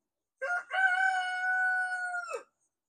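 A rooster among backyard chickens gives a single clear crow, a short rising note followed by a long sustained call that drops off at the end, heard alone and fairly close.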